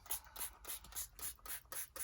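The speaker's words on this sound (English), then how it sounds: "then we're just going to spray it" Rhythmic bursts from a small hand spray bottle misting water onto a painted journal background, about eight quick, hissing pumps in steady succession, close and fairly quiet.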